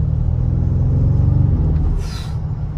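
A new Audi RS6 accelerates with a deep, loud engine rumble heard from inside the car. It builds steadily, then eases slightly near the end, with no talking.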